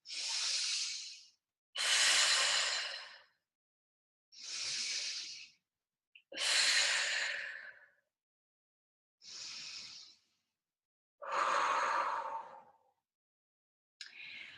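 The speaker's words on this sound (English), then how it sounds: "Take 3 deep breaths." One person takes slow, deep breaths close up, six or so long airy inhales and exhales separated by short silences, with no talking.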